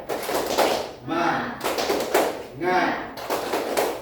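A group of adult men perform a 'tepuk semangat' clap routine, with short bursts of rhythmic hand claps alternating with brief chanted calls. The claps come in quick, close clusters separated by pauses.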